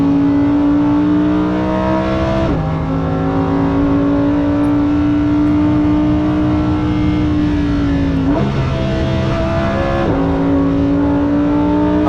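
Lamborghini Performante lapping the Nürburgring near Schwedenkreuz, its engine loud and close as it holds a steady high drone with audible gear shifts and pitch changes, no talking over it.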